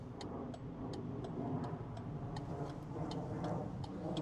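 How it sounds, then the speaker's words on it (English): A hazard light on a Naxeon Iam Pro motorcycle ticks steadily in a quiet, even rhythm, faint and close over a low background hum, with no talking. "As you notice, there's a clicking noise, just like a car."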